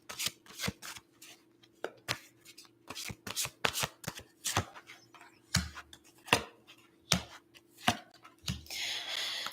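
Tarot cards being shuffled by hand: a long run of crisp, close flicks and slaps in an uneven rhythm, ending in a brief rustling riffle, with no talking.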